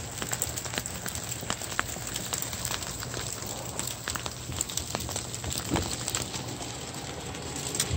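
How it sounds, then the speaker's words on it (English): Freezing rain mixed with snow patters steadily on surfaces outdoors in Savannah, Georgia, a dense continuous hiss with scattered sharper drop ticks throughout. "now the rain is turning into snow."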